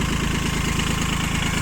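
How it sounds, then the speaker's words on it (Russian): Yanmar UM2500 Japanese mini tractor engine idling steadily up close, a loud, even low rumble with a regular throb and no voices. "двигатель работает ровно, на педаль газа отзывается очень хорошо, сразу же четко набирает обороты"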